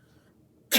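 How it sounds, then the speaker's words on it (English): A woman coughs once, a short, sharp burst close by after a moment of near silence. "sorry for all the coughing"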